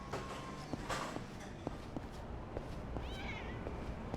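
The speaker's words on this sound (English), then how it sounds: "Yeah, I thought I heard a cat." A cat meows in the video game Yakuza 6, one short rising meow near the end, heard over soft footsteps and ambient game noise.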